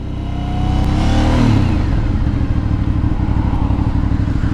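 An Aprilia Shiver 900 motorcycle engine revs up loudly, peaks, then settles into a throbbing, rumbling idle close by.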